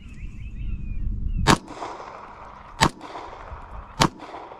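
Three sharp pistol shots from a Springfield Armory Prodigy fired at body armor from about 7 yards, spaced roughly a second apart, loud and close with short decays over a low rumbling background.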